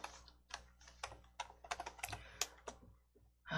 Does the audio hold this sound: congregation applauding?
no